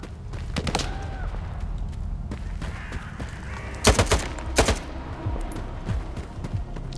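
Gunfire from a first-person shooter set in the Chornobyl zone of Stalker 2, with scattered distant shots and a few louder, sharper bursts in the middle over a steady background ambience.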